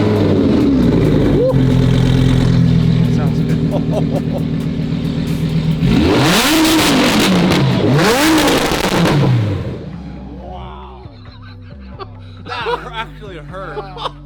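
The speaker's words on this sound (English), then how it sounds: "We gotta check out the exhaust here." A Lamborghini's exhaust revs hard several times, loud close-up blips rising and falling over a steady idle, with people talking and laughing around it.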